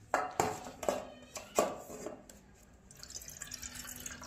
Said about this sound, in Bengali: নিয়ে নিচ্ছি সসপেন, এতে একটুকুনি জল নেব।